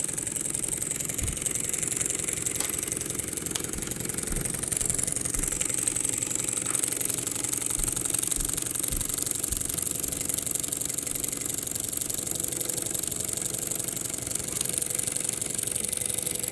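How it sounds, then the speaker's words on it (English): Small Mamod showman's steam engine with slide valve running below full speed, a steady mechanical chuffing and light rattle with scattered clicks and knocks, close and continuous without voices. "Definitely a beautiful, beautiful engine."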